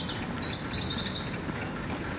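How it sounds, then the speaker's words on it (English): Small birds chirp in quick, light bursts near the Anderton Boat Lift, faint against a steady outdoor hum. "You can hear the birds."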